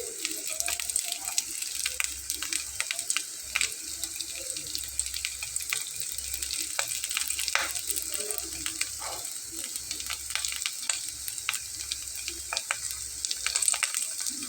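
Potatoes added to a pan on low flame for a Bengali aloo snack, sizzling and crackling steadily with a bright hiss of frying throughout, moderately close with no talk.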